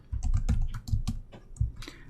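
Computer keyboard typing during a command-line session, a quick irregular run of close key clicks with a few short pauses, no voices.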